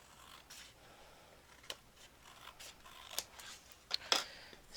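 Scissors trim paper for a scrapbook album: faint, quiet snips and crisp paper rustles come in a few isolated strokes, growing slightly louder toward the end, over a soft, low background hiss.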